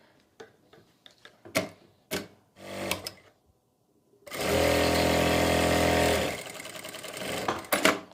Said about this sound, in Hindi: और इस तरीके से इसको स्टिच कर लेंगे और यहाँ तक सिलाई लगा लेंगे।